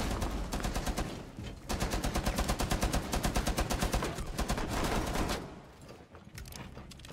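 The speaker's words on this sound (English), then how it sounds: "Oh, I'm shooting him in his toes." Rapid automatic gunfire from Rainbow Six Siege rattles in loud sustained bursts, with a short pause before a longer volley and a tapering finish.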